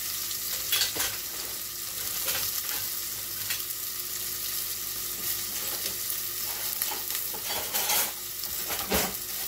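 Steady sizzling of lentil risotto with coconut milk in a pot, with soft, muffled stirring scrapes from a silicone spoon and occasional light knocks throughout.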